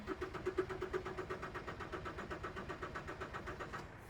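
Haulotte 45XA boom lift engine running steadily after a cold start, a close, even rhythmic idle chugging with no talk.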